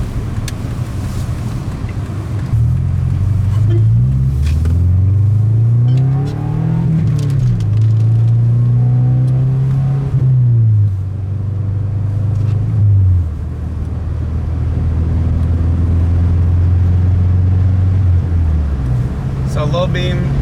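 A 1999 Subaru Forester driving on a highway at night, its engine droning steadily and rising and falling as it shifts, under wind noise from inside the cabin.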